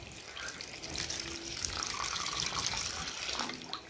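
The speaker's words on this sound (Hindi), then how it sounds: "बाकी मैं इसको पानी डाल के दिखाती हूँ आपको, इसके ऊपर डाल के चेक करते हैं।" Water poured onto a waterproof bed cover, a steady splashing pour lasting a few seconds at close range.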